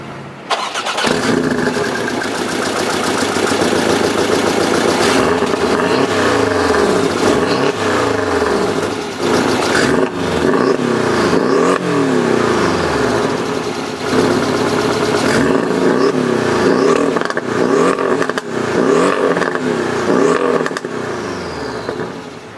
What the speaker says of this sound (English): With my foot on the brake, we can start it up.